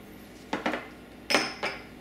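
Onion, carrots and parsley mixed into ground pork in a bowl for lumpiang Shanghai, heard as a few light clinks and scrapes of a utensil against the bowl in two quick pairs, quiet and close, with no talking.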